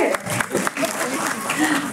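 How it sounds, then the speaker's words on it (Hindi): Audience applause at a school dance recital of a Kauthavam performance, a scattered patter of hand claps spread through the hall, moderately close, mixed with voices and room noise. "अगर आपको पसंद ज़्यादा आ रही है तो थोड़ी ज़्यादा तालियाँ भी बजा सकते हैं हम"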